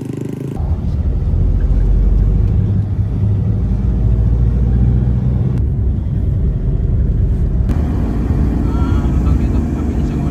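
A van or jeep driving along a coastal road, its steady low engine and road rumble running loud and continuous throughout, with no clear talk over it.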